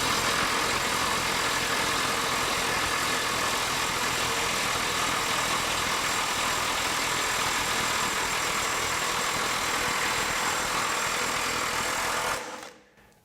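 A Makita XWT17 mid-torque impact wrench works a fine thread bolt loose, running as one steady, loud whirring hammer for about twelve seconds before cutting off abruptly.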